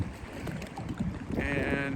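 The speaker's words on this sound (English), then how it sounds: "And pretty windy." Wind gusts across the open shore of Suttle Lake, a steady rushing roar buffeting the microphone, swelling louder toward the end with a faint tonal whistle, and no one talking.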